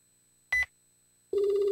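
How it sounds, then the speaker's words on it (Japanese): Electronic button beeps as a mobile phone is dialed in the video game Hayarigami 3: a short single tone, a pause, then a longer sustained dial beep, clean and close. "そしてすぐに携帯電話を取り出しボタンを押した。"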